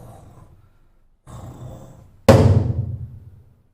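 A person imitates a neighbour's snoring on a train with two rough, breathy snore sounds, then a sudden sharp bang that rings out and fades.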